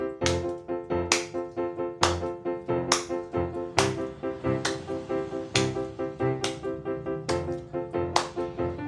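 During an online Sunday church service activity, sharp rhythmic handclaps land on the beat over a sung worship song, strong periodic hits running steadily throughout.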